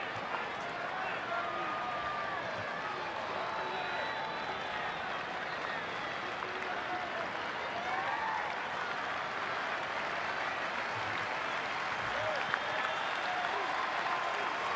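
A baseball stadium crowd of nearly 40,000 at a Yankees vs Orioles game keeps up steady, broad applause and cheering, with a play-by-play voice talking over it throughout.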